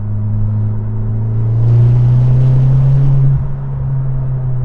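A front-wheel-drive converted car drives with its wheels spinning, giving a loud, steady engine drone that swells into a harder, brighter roar midway, then settles back to a constant hum, close and without talk.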